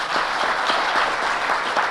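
Audience applause in a conference hall for a French lecturer seated among the crowd, a dense, steady wash of many hands clapping at even loudness for two seconds with no voices.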